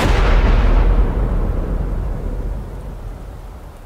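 A heavy rumble of thunder in a storm within the Roblox Brookhaven role-play game, a loud deep boom at the start that slowly rolls and fades over several seconds.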